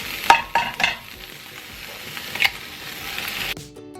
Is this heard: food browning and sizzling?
yes